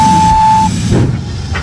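Train sound effect: a short steam whistle sounds first, then a loud rumbling chug, all within under two seconds.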